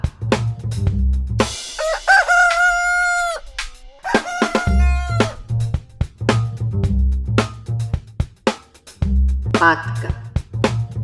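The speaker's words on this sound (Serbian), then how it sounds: "Petao." A rooster crows once, a loud, drawn-out call near the start, over a rhythmic musical backing with a few clucking notes around it.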